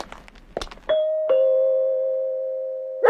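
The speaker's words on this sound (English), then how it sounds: "the front doorbell rang." A two-tone doorbell chime rings out clearly, the second tone lingering and slowly fading, after some faint shuffling noises.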